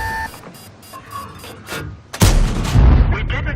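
A KV-5 heavy tank cannon fires in World of Tanks, a sudden loud, booming blast about two-thirds through after a quieter stretch of clicks and interface tones, followed by a rumbling tail.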